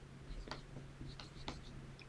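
Pen or pencil writing by hand on paper, a few short scratchy strokes at close range, quiet and intermittent over a steady low background hum.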